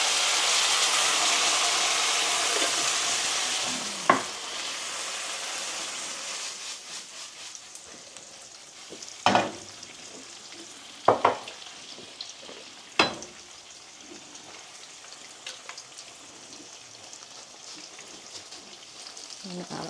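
Sauce poured into a hot frying pan sizzles loudly, the hiss gradually settling while sharp clinks and scrapes of stirring break through at intervals.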